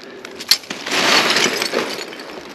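Shards of broken glass crunch and clink as rubbish is cleared from a bat bunker, a sharp tinkle followed by a sustained scraping rattle of glass being pushed across the floor.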